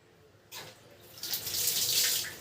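Tap water runs steadily through a filter attached to a kitchen faucet, starting with a sudden gush and then building into a loud, continuous splashing hiss close by, with no talking.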